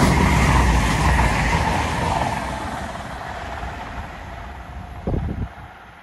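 A southbound Edinburgh to Plymouth train passes a quarter mile south of Duffield station, giving a broad, loud rumble and rush that slowly fades as it goes by, with a brief low thump near the end.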